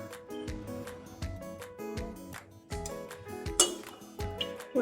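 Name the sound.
pressure cooker being taken out and set down, clinking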